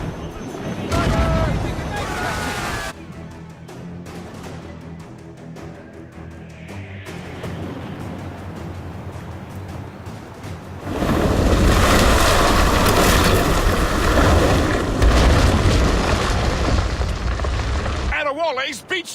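Ship cannons fire in a naval battle in Assassin's Creed Rogue, booming over roaring waves and wind while crew voices shout orders; the barrage swells loudest in the latter half.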